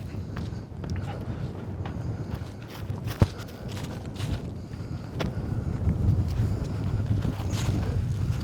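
Gusty wind buffets the microphone across an open disc golf course in an Oklahoma park, a rough continuous roar with a sharp knock partway through and no speech.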